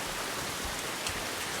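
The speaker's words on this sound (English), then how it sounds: "let's record the rain" Steady rain pours down and patters on surfaces nearby, a dense continuous hiss with no talk.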